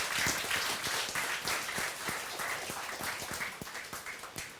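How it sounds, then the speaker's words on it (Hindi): A congregation at a Hindi-language Christian church service claps hands in praise, a dense, loud and continuous patter of many palms with no voices over it. "उस परमेश्वर को अभी हम ताली बजाकर जोर से हम महिमा देंगे।"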